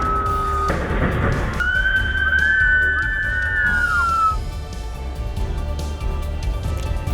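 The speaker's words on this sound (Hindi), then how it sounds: "गांव वालों को अलर्ट करने की बजाय लोग सीटी बजाने लगे।" Shrill whistles blown by villagers during a landslide in Kangela village, Chamba district: a steady whistle tone, then a long wavering gliding whistle, over a rumbling, noisy background with distant commotion.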